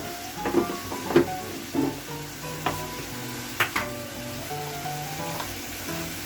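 Spices such as turmeric, coriander and cumin powder stirred and sautéed with kabuli chana in a pan, a soft steady sizzle broken by a few louder spoon scrapes and taps, close up with no talking.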